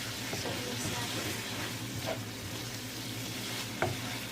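Seafood stir-fry tossed and stirred in a hot pan: a continuous close sizzle with occasional utensil scrapes and a sharper clack near the end.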